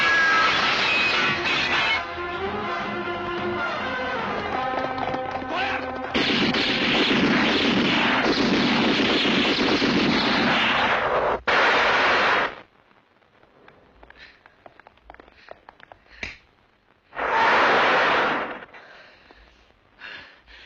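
Gunshots ring out in a Hindi action film scene, a burst of loud sharp reports under dramatic music, then a quieter stretch broken by another loud blast near the end.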